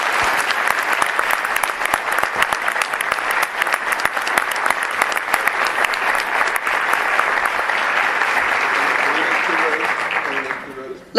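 A crowd at a school board meeting applauds students going on a trip to Iowa State, with steady, full clapping throughout that stops abruptly at the end.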